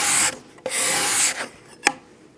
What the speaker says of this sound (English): With a nice sharp card scraper, you actually get some nice shavings.